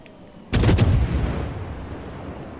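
Naval cannon fire in the World of Warships video game: a single loud boom opens with a sharp attack, followed by a long rumbling decay over steady low game ambience, with no talk.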